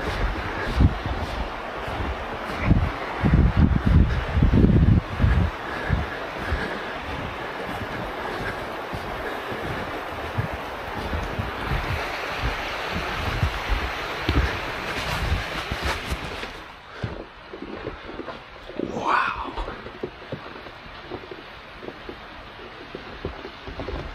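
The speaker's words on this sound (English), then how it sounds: "The wind is strong." Strong blizzard wind gusts around an off-grid cabin, a loud, uneven roar that buffets and swells before dropping to a lighter, thinner rush near the end.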